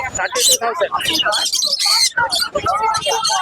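Yellow lory parrots at a pet bird market give sharp squawks and chirps mixed with people talking nearby, the calls close and loud in irregular bursts.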